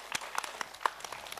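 An audience claps briefly for a team in a Vietnamese game show, a short, faint, sparse patter of hand claps with no voices.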